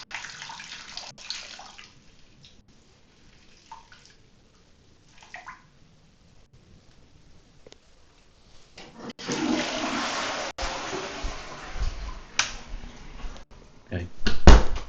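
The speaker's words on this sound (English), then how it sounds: "You can hear and smell water now." Water runs steadily somewhere around the corner of a small passageway, a broad rushing wash that swells loud midway and continues to the end, with quieter stretches of faint movement and speech before it.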